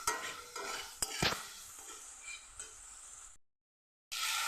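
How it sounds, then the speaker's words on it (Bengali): Ginger and green chili paste fries in a pan with a close sizzle and sharp clinking, scraping stirs of a utensil against metal, then a brief silence before the sizzle returns loud. "আদাটা একটু ভালো করে ভেজে নেব"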